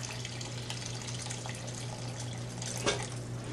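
Water poured from a teapot into a pan of chuck steaks, a steady close splashing wash with a steady low hum underneath and one brief sharper splash near the end.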